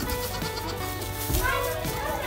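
A lamb on an American goat farm bleats several times through steady background noise, with a person talking nearby.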